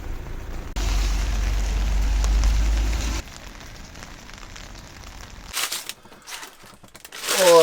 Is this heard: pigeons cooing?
no